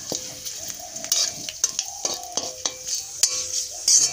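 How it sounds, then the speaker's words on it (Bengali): Panch phoron and a bay leaf fry in hot oil as seeds pop and crackle in sharp, irregular bursts over a thin sizzle, with a few clinks of a spoon against the pan, close and without speech. "ভালো করে পাঁচফোড়ন তেজপাতাটাকে ভেজে নিয়ে"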